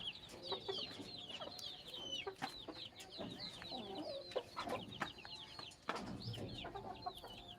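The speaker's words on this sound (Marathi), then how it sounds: "हे बघू शकता कशा प्रकारे सर्वत्र कोंबड्याच कोंबड्या आहेत" Free-range country chickens on a farm cluck and chatter continuously, several birds at once, with overlapping calls and scattered sharp clucks at moderate distance, fairly faint overall.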